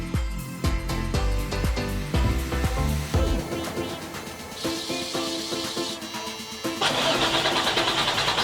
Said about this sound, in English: fill it up, and start the truck again